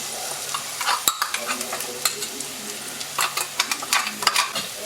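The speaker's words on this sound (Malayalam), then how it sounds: "നല്ലതുപോലെ ഒന്ന് വഴറ്റിയെടുക്കാം." Roasted ground coconut paste sautéing in a pan for a breadfruit curry, with a steady sizzle and repeated sharp scraping clicks of a spoon stirring, close and fairly loud.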